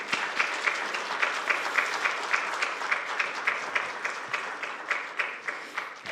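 A church congregation applauds during a Sunday worship service, a steady, rhythmic round of clapping from many hands, fairly soft and even, with no voices over it.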